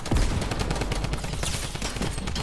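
Rapid gunfire in the video game Fortnite, a dense crackling fusillade that runs steadily throughout, fairly loud against the game's background noise, with no voices.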